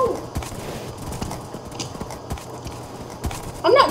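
Hooves clip-clop steadily through a horse race in Minecraft on the Hypixel server, a light, quick patter of repeated hoofbeats with a brief brighter burst near the end.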